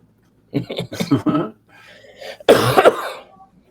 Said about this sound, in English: If I go back through and have to edit out all these coughs,